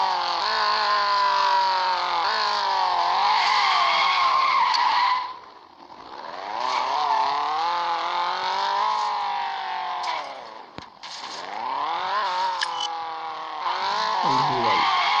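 A car drifting in an Android open-world driving game: long, loud tire squeals and skids rise and fall over a revving engine, continuous across the run with one brief dip.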